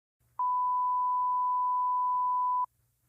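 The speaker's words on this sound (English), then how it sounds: "The simplest and most fundamental of these waves is the sine tone." A single pure sine-wave tone holds for about two seconds at constant pitch and loudness, then cuts off cleanly.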